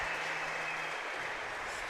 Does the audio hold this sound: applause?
yes